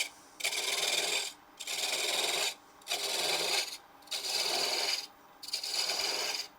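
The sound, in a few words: spindle gouge removing wood on a lathe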